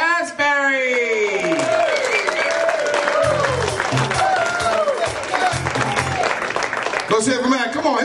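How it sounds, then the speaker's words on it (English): Comedy club audience in Las Vegas clapping and cheering as a comedian takes the stage, a loud continuous roar of applause while a host shouts over it and music plays beneath. "make some noise for Willie Asbury!"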